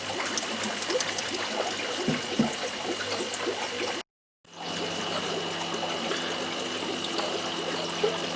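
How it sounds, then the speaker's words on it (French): Water pours and trickles into a jar of sand, a soft continuous splashing and gurgle that cuts out briefly midway, then resumes as a steadier watery wash. "Je vais le remplir complètement avec de l'eau après et je vais secouer tout ça"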